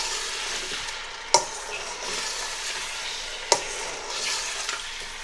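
Lamb meat frying with spices in a pan gives a steady close sizzle, broken by two sharp clacks of a utensil stirring against the pan.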